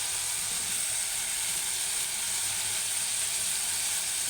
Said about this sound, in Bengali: জিরার গুঁড়া দিয়ে মশলাটাকে একটু ভালো করে কষিয়ে